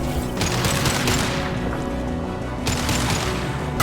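Weapon fire in the video game Mass Effect 2: a dense, continuous barrage of loud gunshots that runs without pause for the whole stretch, with no voices.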